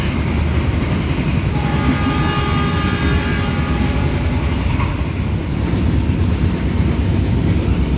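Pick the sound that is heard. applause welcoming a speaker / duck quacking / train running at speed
train running at speed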